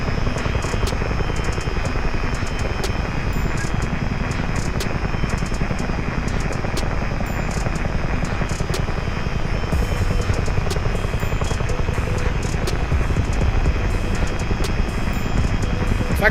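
A Miltech CH-47D Chinook helicopter in Microsoft Flight Simulator 2020 drones with a steady, loud rotor thrum and engine whine, unbroken from start to finish.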